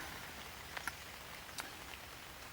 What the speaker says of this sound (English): so far there's nothing to report, apart from it's still raining